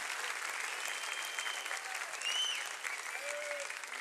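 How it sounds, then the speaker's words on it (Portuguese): A church congregation applauding during a service, a sustained wash of clapping from a crowd with faint voices and whistle-like tones mixed in, heard at moderate distance. "Vamos mais uma vez, uma salva de palmas a Jesus pela PIB Curitiba"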